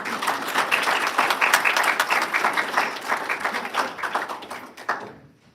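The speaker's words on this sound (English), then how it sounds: "So I would like a round of applause for the wonderful people who give their time." A church congregation at its annual meeting gives a round of applause, many hands clapping in a lively, uneven patter that tapers and fades out near the end.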